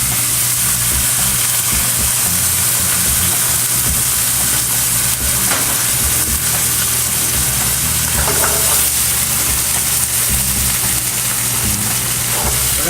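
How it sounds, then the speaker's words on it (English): A puttanesca sauce of anchovy, capers, olives and tomatoes simmering in a pan gives a dense, steady hiss and sizzle with faint bubbling pops throughout, continuous and close, with no talk. "We're gonna let that simmer."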